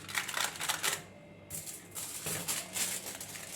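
Aluminium foil crinkling and rustling as it is wrapped around a still-warm curd starter container, several close bursts of crackle with a brief quiet gap.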